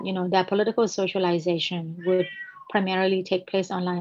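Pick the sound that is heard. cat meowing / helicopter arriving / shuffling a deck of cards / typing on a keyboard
cat meowing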